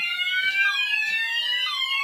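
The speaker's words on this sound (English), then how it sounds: "Alarms work fine." Fire alarm sounders going off during a building alarm test, a loud continuous electronic wail with sweeping overlapping tones and a steady level throughout.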